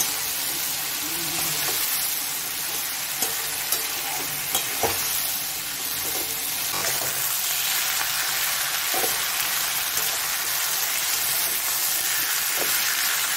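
Radhuni spice and ginger paste fry in a pan for Bengali shukto, a loud, steady sizzle lasting the whole time, with a few soft knocks of stirring.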